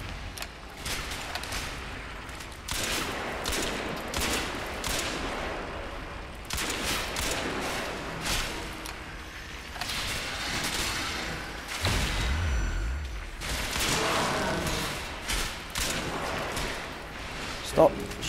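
Gunfire in Crysis 3 crackles in repeated bursts and volleys mixed with heavier booms and thuds, loud and continuous over most of the stretch, with someone talking throughout.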